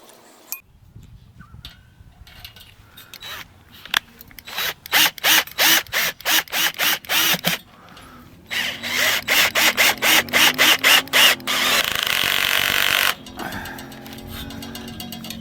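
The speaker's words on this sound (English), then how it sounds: "And let's screw it down." A power drill drives a screw through thin metal into a wooden wedding wishing well, with ratcheting clicks, bursts of whirring and a sustained grinding run up close, no speech.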